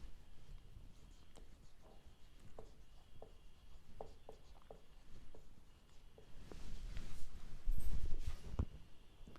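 A pen writing accounting journal entries in a notebook, with a run of light scratchy strokes and small taps, then louder rubbing and rustling of paper toward the end, close and quiet with no voice.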